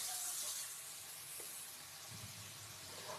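Prawns fry in a pan with salt and two spoons of turmeric, giving a steady broad hiss and sizzle throughout with a few faint clinks and stirring knocks.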